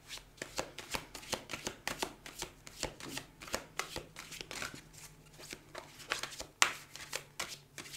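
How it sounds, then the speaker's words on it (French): A large oracle card deck being shuffled by hand, rapid riffling and slapping of cards in quick repeated bursts, close and fairly quiet, with no speech over it. "Je vais tirer 4 cartes."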